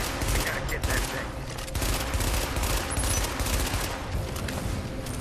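Rapid bursts of automatic gunfire rattle almost without pause in a firefight in the video game The Division, loud and close, with dense overlapping shots and faint voices mixed underneath.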